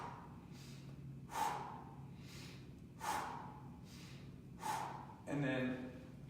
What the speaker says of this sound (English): He might want to breathe like this.